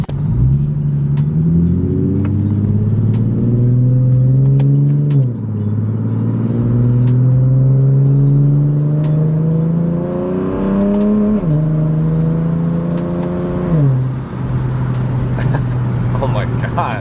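A car with a newly installed exhaust accelerates hard, its loud, close engine tone repeatedly climbing in pitch and then dropping sharply at each gear change, a steady roar over about seventeen seconds.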